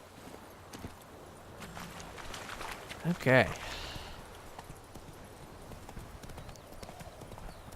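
Roach the horse in The Witcher 3 gives a short burst of close hoof clip-clops and a snort around the middle, set against quiet game ambience, while someone speaks briefly.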